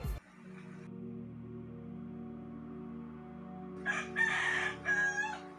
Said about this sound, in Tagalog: Yun! Manok!